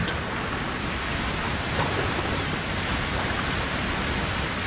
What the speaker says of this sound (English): But now, a ton of water crashes down every second.